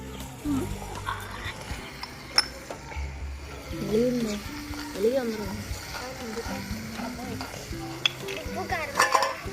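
A curry is stirred in a pan over a wood fire, with a sizzle and the scrape and clink of stirring. Voices talk over the cooking throughout.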